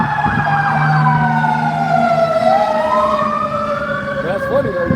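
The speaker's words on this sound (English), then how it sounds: "Fire truck." Fire truck siren sweeping up and down loudly and close, a continuous wail over low engine drone.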